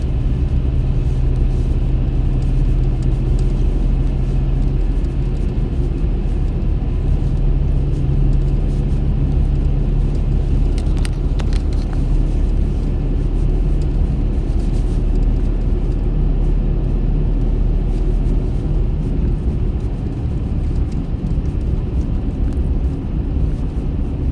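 A car's engine runs during a driving lesson, a steady, loud low rumble with road and cabin drone that holds constantly from inside the vehicle, without talk.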